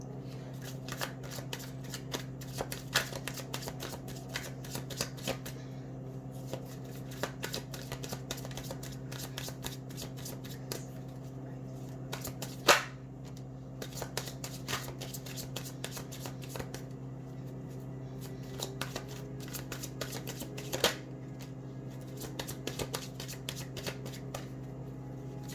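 A deck of tarot cards is shuffled by hand over and over, giving crisp riffling flutters and taps at an uneven rhythm, close up over a steady low hum.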